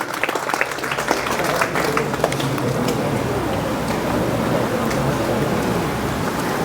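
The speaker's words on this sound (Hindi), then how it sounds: "जोरदार तालियां हमारे" Sustained applause from an audience honouring ward councillors at a school ceremony recognising top-scoring students, a dense steady patter of many clapping hands filling the room throughout.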